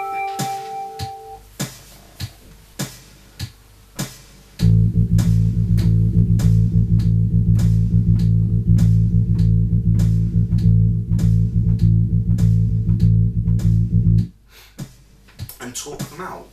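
Bass guitar plays steady eighth-note-plus-two-sixteenth-note rhythms as a sustained, loud low-end passage, preceded and followed by light tapping clicks.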